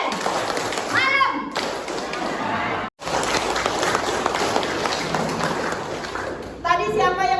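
A group at an indoor presentation claps in a patterned rhythm, with sharp thumps and taps interrupted by a brief pause and voices calling out over the clapping.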